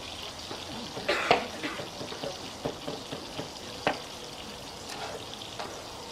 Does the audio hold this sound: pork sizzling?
yes